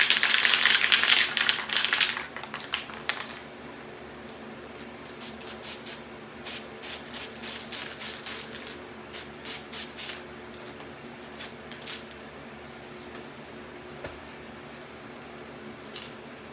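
Lacquer sprays onto a Selmer Reference 54 saxophone in a dense hiss for the first two seconds, then in short repeated bursts. Each burst is close and moderately loud, with quiet gaps between them and no voices.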